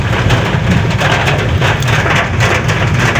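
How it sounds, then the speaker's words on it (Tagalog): Steady, heavy rain pours down in a constant hiss with a low rumble beneath it, close and loud throughout, with no voices, in Salvacion, Ragay. "inabutan kami ng malakas na ulan"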